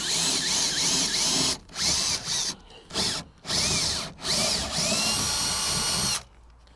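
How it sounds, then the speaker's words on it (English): A power drill fitted with a metal bit bores a pilot hole into a fiberglass boat hull in a forward cabin, whining loudly in several bursts with short pauses between them, close up. "So I'm gonna use my drill and a drill bit for metal."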